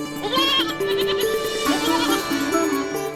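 Goats bleating in a close series of loud, wavering calls that overlap one another, heard alone with no talk over them.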